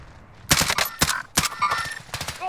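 Bursts of automatic gunfire from the Call of Duty Modern Warfare video game crack out in several sharp volleys over a couple of seconds, mixed with brief game effects.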